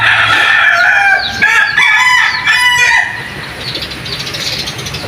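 Pet chickens and a rooster call loudly up close during heavy rain: a strong, harmonic crow and clucking for about three seconds, then the softer hiss of rainfall.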